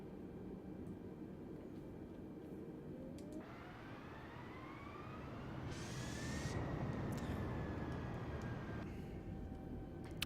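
A simulated Airbus A320 taxis in Microsoft Flight Simulator 2020 with a low, steady engine drone; a thin whine rises and swells midway, then settles.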